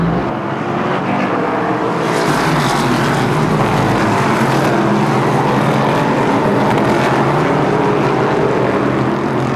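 Super short track race cars roar down the back straightaway in a loud, continuous pack, engines blaring steadily at close range with no break in the noise.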